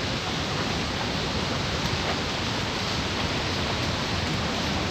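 Lingamala Falls in Mahabaleshwar during the monsoon, heard as a constant dense roar of falling water, loud and unbroken throughout with no other sounds.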